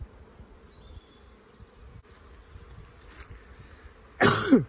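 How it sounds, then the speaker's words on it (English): Honey bees hum softly in an open hive with hatching brood, a faint, steady low buzz that ends in a sudden loud, harsh burst close by. "Hardly moving these bees, look at them."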